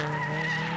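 Morris Cooper S production touring cars race at Warwick Farm Raceway in 1970, a steady loud engine drone with a squealing tonal whine throughout, close and continuous.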